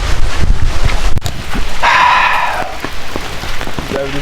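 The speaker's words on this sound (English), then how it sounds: "Right now we can't wait on the rain." Steady rain patters outdoors near waterfalls in Grenada, loud and continuous, with wind buffeting the microphone and a brief louder tonal burst in the middle.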